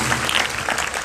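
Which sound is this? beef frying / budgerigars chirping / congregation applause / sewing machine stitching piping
congregation applause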